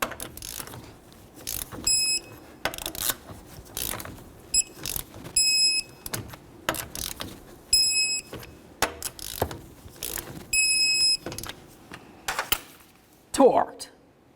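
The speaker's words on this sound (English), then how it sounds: "let's torque these to 76 in a crisscross manner" A torque wrench tightens the wheel lug nuts on a Scion xB, with repeated bursts of ratcheting clicks and mechanical rattles separated by short pauses, close up.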